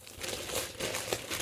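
Plastic packaging from a diamond painting kit crinkles and crackles as it is unwrapped close by, a short burst of rustling with small sharp crackle peaks and no speech.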